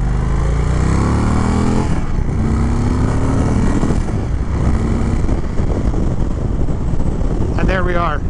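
2021 Indian Chief Dark Horse motorcycle on a ride, engine droning loud and steady with pitch rising as it accelerates and dipping at gear shifts, heavy wind noise throughout.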